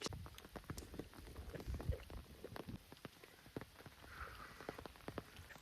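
Soft, steady rain patters on a surface at Mahabaleshwar with scattered distinct drops, faint and fairly distant, no voices.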